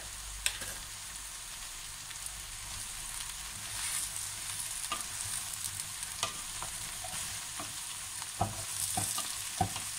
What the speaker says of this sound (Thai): เจียวกระเทียมกับน้ำมันมะกอกนะคะกระเทียมหอมแล้วก็ใส่เห็ดลงไป